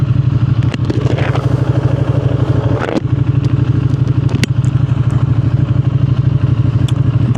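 A Ducati Panigale V2 sportbike hums with a steady, loud engine drone while riding, a constant low throb overlaid with wind rush and occasional rattles and clicks.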